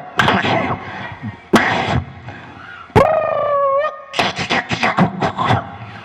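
A human voice imitates a dog's long wavering howl, rising and falling, set among rapid barking-style yelps and vocal bursts, loud and close.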